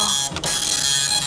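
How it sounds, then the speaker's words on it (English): A dot-matrix style computer printer printing every character and graphic symbol its print wires can form, a steady loud mechanical buzz and chatter running throughout with a brief dip early on. "I can turn on the printer, and it's now going to print every one of the wire combinations that's in the printer"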